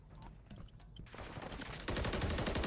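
Rapid gunfire from Call of Duty: Modern Warfare III ranked play, clipped bursts of shots that grow louder and denser toward the end, with no talking over them.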